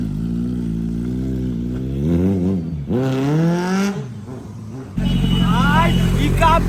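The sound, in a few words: motorcycle being ridden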